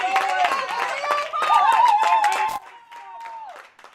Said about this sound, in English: An RBI single got more cheers